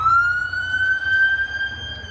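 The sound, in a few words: ambulance siren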